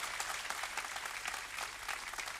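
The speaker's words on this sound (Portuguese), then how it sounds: "Dê uma salva de palmas para Jesus." A church congregation clapping together during a sermon, a steady wash of applause heard fairly faint and distant throughout.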